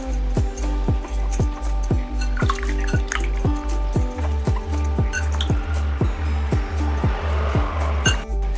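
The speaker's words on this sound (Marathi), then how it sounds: "आता आपण ह्याला चोळून छान धुवून घ्यायचं आहे।" Raw mangoes being rubbed and washed in water, giving a steady, close series of rhythmic sloshing and dripping splashes that repeat about twice per second throughout, with no talk.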